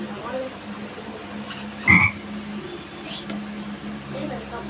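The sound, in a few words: frogs croaking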